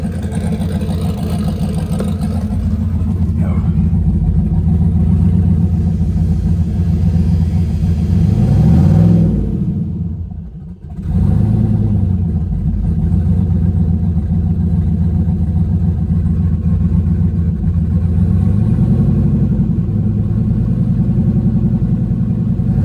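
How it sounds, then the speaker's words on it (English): A no-prep drag car engine runs close and loud in a rough, steady rumble, with pitch rising and falling through revs around the middle and again later, a brief dip near the centre, and no talking. "see what it'll go up to when I rev it"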